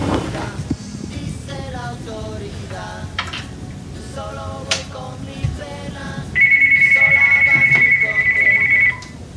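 A telephone rings in a steady electronic trill for a few seconds near the end, sounding over ongoing music and a voice.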